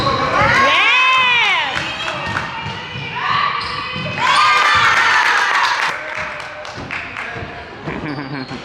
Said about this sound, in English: Cheer on your sister, Ben.